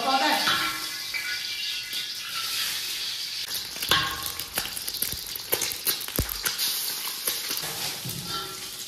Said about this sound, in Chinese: 打两个荷包蛋